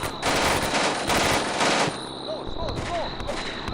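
Gunfire in the World War II tactics game Combat Mission: Beyond Overlord, dense bursts of machine-gun and rifle fire crackling loudly in rapid volleys, then thinning to scattered shots with whistling sounds, and a voice is heard briefly.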